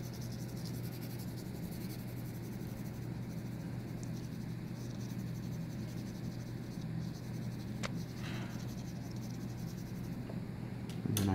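Soft graphite of a B pencil shading across paper, a steady faint scratchy rasp that continues unbroken and close throughout, with no talking.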